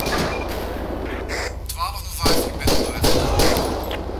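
A suspect shooting in GTA 5 during an LSPDFR police encounter, several quick loud gunshots in close succession over a steady low rumble, with a voice briefly heard.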